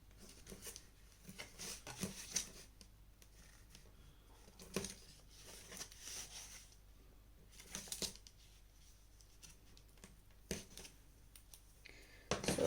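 Scissors trimming excess quarter-inch adhesive tape on a handmade paper envelope, a few quiet crisp snips and paper rustles spaced through an otherwise hushed scene.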